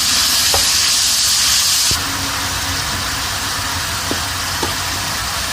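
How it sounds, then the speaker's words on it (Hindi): Minced meat filling for stuffed karela fries in a pan with a loud, continuous sizzle that drops in level partway through, punctuated by a few light utensil taps. "अब इसको हम फ्राई कर लेंगे।"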